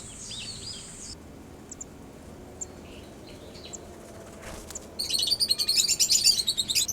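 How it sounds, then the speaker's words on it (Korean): A Japanese paradise flycatcher gives scattered high chirps and whistles in a quiet outdoor setting, then breaks into a loud, rapid run of bright trilled notes nearby. "여름철새 긴꼬리 딱새입니다."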